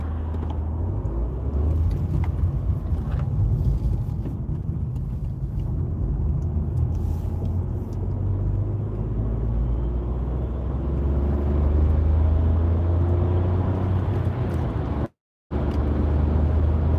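Steady low road rumble and tyre roar from a car cruising at about 70 on a UK motorway at night between Stalybridge and Wigan, continuous and even, with one brief dropout near the end and no talking.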